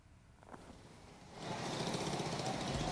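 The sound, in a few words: construction work machinery on a road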